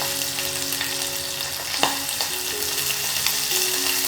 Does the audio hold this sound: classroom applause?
no